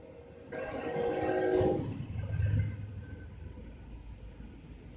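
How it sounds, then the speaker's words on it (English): A Norfolk Southern intermodal freight train with a single locomotive passes through snow, a brief horn-like tone rising over a low distant rumble that fades away. "A Norfolk Southern Intermodal with a single locomotive, something I've not seen since"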